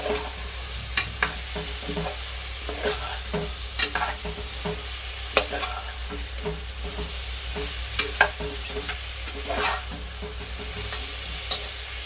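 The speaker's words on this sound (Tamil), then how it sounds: "பலாக்காய் அவிச்சு வச்ச பலாக்காயை கொட்டிக்கிடுவோம். போட்டு நல்லா கிளறிக்குவோம்." Boiled jackfruit being stirred into a frying masala in a pan for jackfruit biryani, with a steady close sizzle and repeated scraping stirs of a spoon throughout, no talking.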